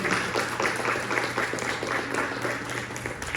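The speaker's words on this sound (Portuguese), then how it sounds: "Você pode aplaudir ao Senhor." Church congregation claps in a rhythmic, unison beat, steady and moderately loud, with a low sustained hum from instruments or a sound system underneath.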